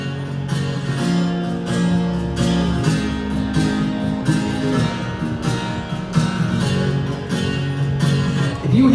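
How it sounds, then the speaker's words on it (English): Sampled acoustic guitar from Native Instruments Kontakt played via MIDI, strummed in a steady rhythmic pattern of repeated chords, clear and close with no voices. "I use strummed acoustic for this."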